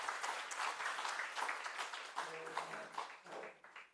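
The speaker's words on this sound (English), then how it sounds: "A round of applause for the Deputy Governor" Applause from a conference audience at a women in financial markets event, steady and fairly close, with faint voices and a low hum near the end.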